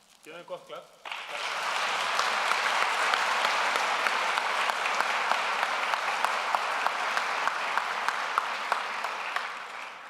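Audience applause at an Icelandic IT award ceremony, with a brief voice at the start before a full, steady round of clapping from a large crowd that holds at an even level to the end.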